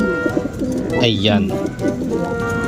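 Racing pigeons cooing nearby in a loft, low throaty warbling coos repeating over someone talking.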